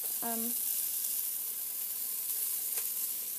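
Chilies roast in a pan for shredded beef, giving a steady, soft, hissing sizzle with a brief clink near the start and another faint tick later.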